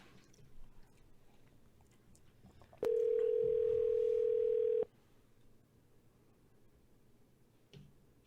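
A telephone dial tone sounds as one loud, steady, unbroken tone lasting about two seconds, surrounded by quiet room noise and small clicks before and after.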